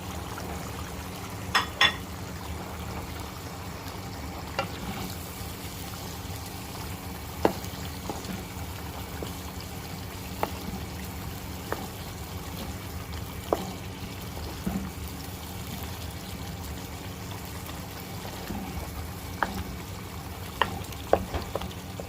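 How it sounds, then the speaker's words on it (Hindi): Grated tomatoes with masala fry in a pan, giving a soft, continuous low sizzle with occasional faint clicks and stirring taps, quiet and steady throughout. "टमाटर ऐड करने के बाद मज़ीद इसे हम 5 मिनट तक भूनेंगे।"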